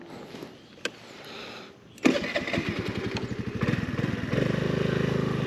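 A Honda Navi mini motorcycle starts up with a sharp clunk after a quiet stretch, then its small engine idles with a steady putter and revs as it rides off from a covered area in a park, loud and close.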